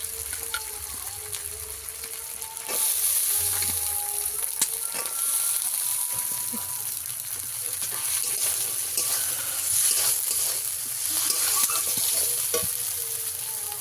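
Ingredients for a rohu fish curry with potato sizzle steadily in hot oil while a spoon stirs and scrapes the pan now and then, a continuous close frying hiss with no voices.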